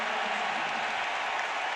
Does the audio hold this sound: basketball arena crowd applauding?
yes